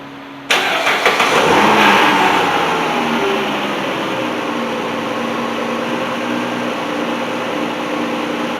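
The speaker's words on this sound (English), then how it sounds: "Well, it started up, it's sitting there idling." A 2008 Dodge Avenger RT engine catches abruptly, revs briefly, then settles into a steady, loud idle that runs on without pause.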